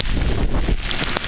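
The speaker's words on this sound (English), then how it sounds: "kind of a driving rain and wind" Driving rain and wind buffeting a waterproof camera's microphone while walking outdoors, a dense, steady roar of broadband noise with occasional sharper taps and gusts throughout.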